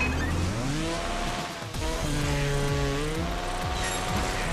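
Motorcycle engine screaming at full throttle in the trials video game Trials Fusion, a loud continuous whine rising and shifting pitch, briefly dipping near the middle before climbing again, with no talking.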